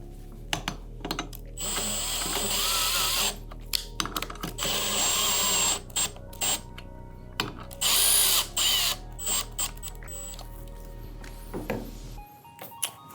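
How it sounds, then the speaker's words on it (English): A power drill drives bolts into an office chair backrest in short, loud whirring bursts separated by brief pauses, with small clicks and handling noises between runs and no talk. "We're gonna screw these bolts in just before snug"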